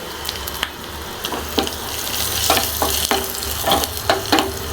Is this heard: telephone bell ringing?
no